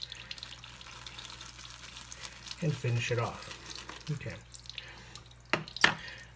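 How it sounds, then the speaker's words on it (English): Water is drizzled into a bowl of CBL shaving soap for lathering, a few brief, soft splashes and trickles close up, with a voice speaking quietly. "add a little bit of water onto that,"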